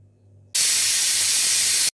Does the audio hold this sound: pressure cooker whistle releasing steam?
yes